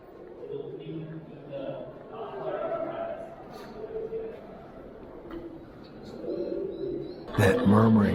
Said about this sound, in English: That murmuring sound that you hear are the sounds of doves.